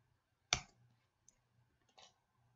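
Two crisp, isolated mouse clicks, a loud one followed by a softer one about a second and a half later, with a faint tick between, made while drawing a 3D model of a house on a computer.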